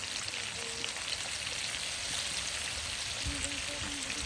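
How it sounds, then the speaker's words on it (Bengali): Potatoes seasoned with salt and turmeric frying in a pan, a steady soft sizzle and crackle throughout, moderately quiet, with a voice talking faintly over it. "ভালো করে আমি আলুগুলো লাল লাল করে ভেজে নিই দেখুন"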